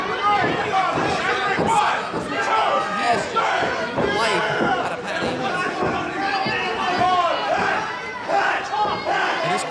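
Loud wrestling crowd at an indoor show cheering and shouting without a break, dense roaring babble with scattered yells and sharp slams throughout.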